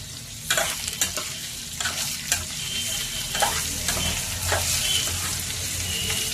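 Raw banana slices frying in a pan, stirred with a spatula: a continuous sizzle broken by several sharp scrapes and clatters of the spatula, close and moderately loud, with no voices.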